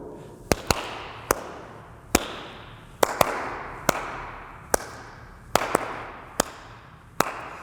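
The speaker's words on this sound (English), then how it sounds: "Now notice that the rhythm of that I'm hitting the floor." Swing dance rock steps striking a hard floor, sharp, loud slaps and stomps falling in uneven groups of quick beats with short pauses, close by and with no talk over them.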